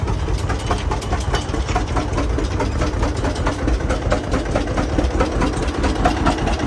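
A John Deere tractor engine running hard at an outdoor tractor show in Michigan after being pull started by a Farmall, a loud, steady, low chugging rumble with continuous vibration and no voices.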